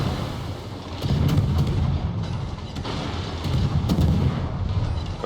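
Incoming naval gunfire in World of Warships as a Harugumo destroyer takes hits: heavy rumbling booms and dense shell impacts roll in two loud surges over a constant low roar.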